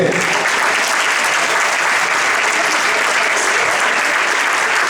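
Dense, steady applause from an audience at a book or event presentation in Alboraia, filling the whole stretch with loud, even clapping and no pause.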